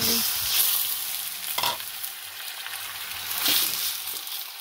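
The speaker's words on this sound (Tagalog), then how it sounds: "Dahil mabango na yung luya at luto na, ilalagay ko na yung aking chicken." Chicken sautés with ginger in a hot pan for chicken tinola, a steady close sizzle with occasional stirring scrapes and swells of frying.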